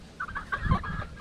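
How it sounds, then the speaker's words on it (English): Farm chickens cluck in a short burst of close, overlapping calls, several birds together, with low rustling beneath. "these chickens are pretty cute"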